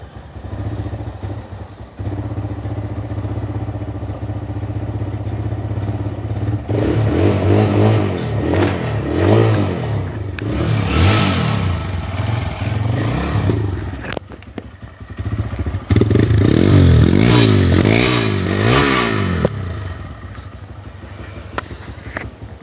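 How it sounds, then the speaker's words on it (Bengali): A used motorcycle's engine idles and then revs repeatedly in loud, close bursts, with rising and falling throttle swells and some mechanical clatter, and no talking over it. "আমরা গাড়ির সাউন্ডও আপনাদেরকে একটু শুনিয়ে দিতে চাই।"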